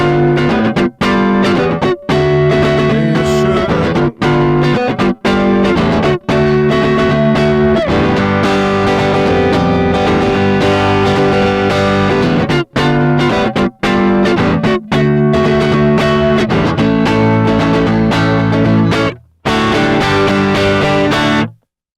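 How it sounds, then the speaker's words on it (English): A heavily distorted electric guitar plays a driving riff with chords and crunchy tone, loud and continuous, with short breaks between phrases and no voices. "We've got with the distortion on."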